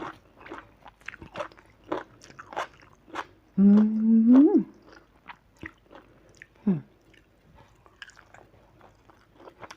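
Crunchy vegetables being bitten and chewed during a meal of grilled mackerel chili dip, with repeated close, crisp bites spread throughout, plus one louder sustained tonal burst in the middle.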